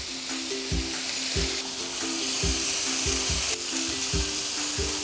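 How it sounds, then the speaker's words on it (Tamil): Chicken breast sizzles steadily in a pan over medium heat, a loud continuous frying hiss broken by regular scraping strokes of a utensil roughly every half second. "ஸோ 5 minutes நம்ம வந்து மீடியம் ஹீட்டில் சிக்கன் பிரெஸ்ட் குக் பண்ணியாச்சு"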